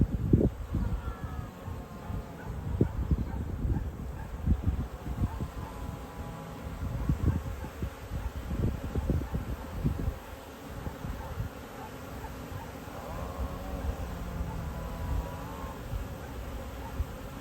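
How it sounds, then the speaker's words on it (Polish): Honey bees swarm around their hive, a continuous buzzing drone with individual bees zipping close past the microphone in louder passes, steady and dense throughout without any talk. "młoda pszczoła też się oblatuje"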